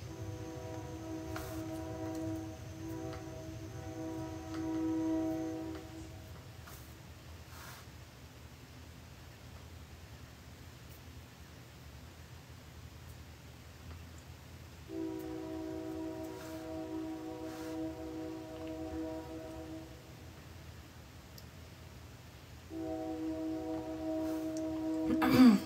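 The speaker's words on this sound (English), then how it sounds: "That fucking train, man." A train passing nearby, a steady rumbling roar with long horn-like tonal blasts that come and go in three stretches, fairly loud and alone without talk.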